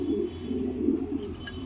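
Heavy domestic pigeons, including a White Diamond pair, kept in a cage for sale, giving soft, low, continuous cooing close by with no talk.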